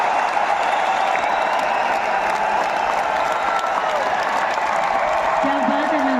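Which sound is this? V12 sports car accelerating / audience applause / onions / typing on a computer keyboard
audience applause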